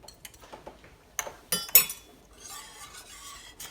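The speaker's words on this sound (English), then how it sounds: "You just have to keep stirring it." A spoon scrapes and clinks against a pot while stirring sticky roux for chicken and sausage gumbo, giving a few quiet taps and then sharper metallic knocks close by.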